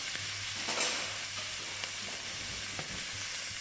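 Filet mignon sizzles steadily in a hot pan as it is basted with a teaspoon, giving a continuous close frying hiss with a few faint spoon clinks.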